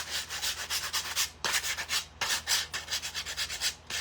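Rhythmic hand sanding with coarse 80 grit sandpaper on a craft piece for a ladybug DIY kit, quick close scratchy back-and-forth strokes in bursts with brief pauses, no talking.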